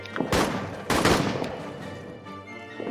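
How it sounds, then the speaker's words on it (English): Heavy blasts of artillery fire boom in a trench warfare video game. Two loud, close impacts come in quick succession, each followed by a rumbling decay. "Heads down, artillery."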